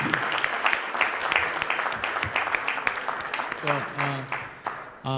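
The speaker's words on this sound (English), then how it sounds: "Let's give them a big round of applause." An audience at a higher education policy forum gives a round of applause, clapping dense at first and thinning out, with a voice speaking over the tail end.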